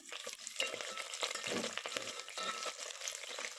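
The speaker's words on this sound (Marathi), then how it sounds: "शिमला मिरची एकसारखं परतून घ्यायचं आहे" Capsicum sautéing in a pan for veg biryani, with a steady crackling sizzle and intermittent scraping stirs, close up and with no voices.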